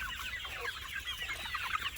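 Country chickens and chicks cluck and peep steadily inside a small shed, a busy continuous chatter of many birds at moderate distance.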